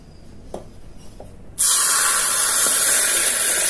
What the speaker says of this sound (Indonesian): Minyaknya kita tuang ke dalam sambal.